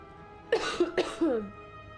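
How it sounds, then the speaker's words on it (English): A couple of quick, close coughs, harsh and throaty, bunched together in under a second, during a game of Slay the Spire. "This persistent cough."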